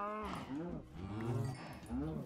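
Minecraft cows give several drawn-out, rising moos in quick succession. The moos are faint and sit under low background sound.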